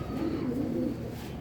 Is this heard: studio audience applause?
no